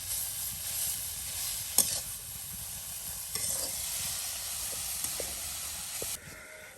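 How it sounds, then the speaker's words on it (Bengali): Leafy greens fry in oil with chili and onion, giving a steady close sizzle and hiss with occasional stirring scrapes and clinks; the sizzle runs unbroken throughout and drops off sharply near the end. "একদিকে আপনার শাক ভাজা হচ্ছে"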